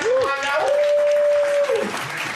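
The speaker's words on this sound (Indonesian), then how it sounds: "Tepuk tangan guys semuanya" An audience applauds at a lively televised show, a dense wash of clapping running throughout under a long sustained vocal note.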